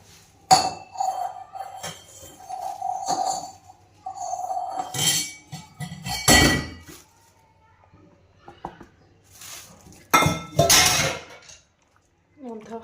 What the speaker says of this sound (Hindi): बर्तन तोड़ रही है, उठा उठा के मार रही है।